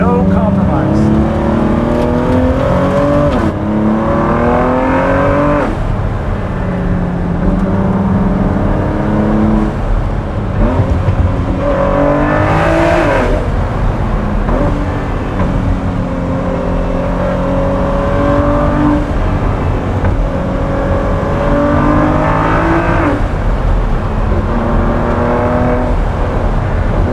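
A Ford GT Carbon Series sports car engine revs and accelerates repeatedly, its pitch climbing and dropping through gear changes, with voices talking over the steady road noise.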